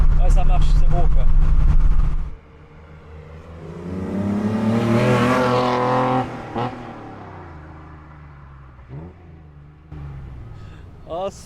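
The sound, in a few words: Nissan Skyline Hakosuka engine revving, swapped L28 engine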